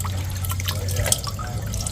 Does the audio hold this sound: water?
yes